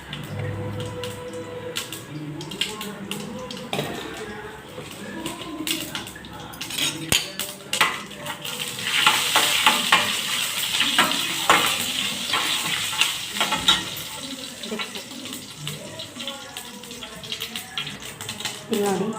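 Mustard and cumin seeds crackle and sizzle in hot oil in a pan, with scattered pops, a spoon stirring and clinking against the pan, and a voice talking over it.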